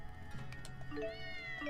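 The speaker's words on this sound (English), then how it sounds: "I hear a cat." A cat meows in the video game Tales of Xillia 2, one drawn-out rising and falling meow heard alone against faint game background sound.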